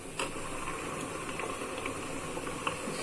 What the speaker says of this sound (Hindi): पानी बॉईल होने के लिए रख दिया मैंने।